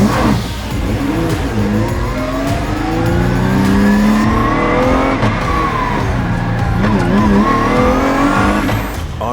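A Ginetta G56 GTA race car is driven hard on track, its engine rising and falling through the gears with loud, close revs and brief tire squeal, and no talk over it.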